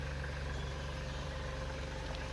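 A car engine idles steadily in an outdoor parking area before pulling out, a constant low rumble with no voices.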